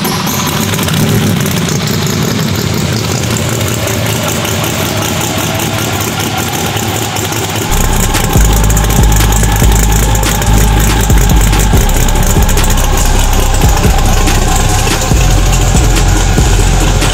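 A sequential burnout truck's engine idles loud and steady, its low rumble thickening and growing heavier partway through, with no one speaking.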